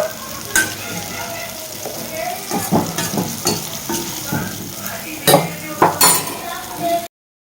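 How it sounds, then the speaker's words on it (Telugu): Dried coconut fries lightly in a pan for a capsicum masala curry, giving a close, crackling sizzle broken by bursts of stirring and clinks of a utensil against the pan. "కొంచెం లైట్గా ఎండు కొబ్బరి ఫ్రై చేస్తున్నానండి"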